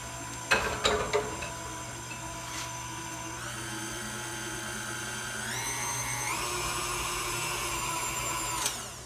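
An electric stand or hand mixer whirs steadily as flour is worked into cookie dough for old-school Christmas cookies, starting with a few clatters and then shifting up in speed, loud and continuous.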